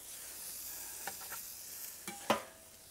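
Burgers sizzle on a hot Weber barbecue grill, a soft steady hiss broken by a few sharp scraping clicks near the end, with no talking.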